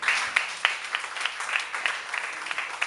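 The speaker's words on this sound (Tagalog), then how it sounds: "Pumalakpak nga po." An audience at a church service applauds with a thin, scattered patter of hand claps, a handful of sharper claps standing out as it fades, with no voices.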